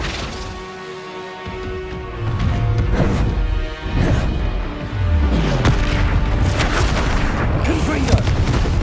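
Spell effects from a Flipendo cast in the Hogwarts Legacy video game: a run of booming, crashing magical impacts layered over busy game ambience, growing louder and denser partway through.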